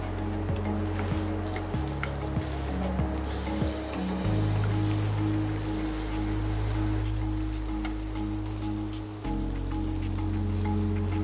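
Saint-Jacques scallops sear in a hot pan, a continuous close crackling hiss with fine popping that holds steady throughout.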